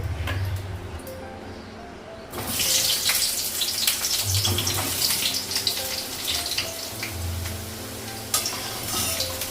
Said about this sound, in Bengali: তেল লাগালাম আলুকে ভাজবো